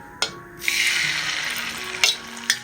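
Poori batter poured onto a hot plate in frying oil bursts into a loud, steady sizzle after a brief knock, with a few sharp utensil clinks near the end.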